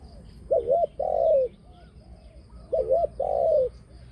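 A male breeding bird coos in two repeated phrases, each a quick warbled note followed by a longer drawn-out coo, clear against a quiet background.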